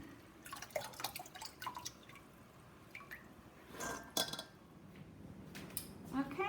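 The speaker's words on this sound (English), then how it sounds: "Now I'm going to drain them, put them back in the bowl, and get ready to jar them up." Blanched peas being drained in a kitchen, with dripping water, splashes and clattering of a metal bowl and utensils in short, irregular bursts up close.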